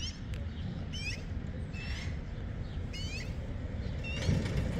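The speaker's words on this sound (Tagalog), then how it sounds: "Ang ingay ng ibon." Chirping bird calls repeat at intervals over a steady low rumble of background noise, fairly faint and a little distant, with no talking.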